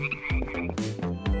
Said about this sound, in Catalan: Granota d'arbre que borda.